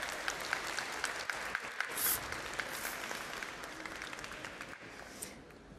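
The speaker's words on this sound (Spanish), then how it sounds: "un aplauso para la compañera" An audience at a science lecture gives a faint, scattered round of applause for a volunteer, light claps rising briefly and then thinning out.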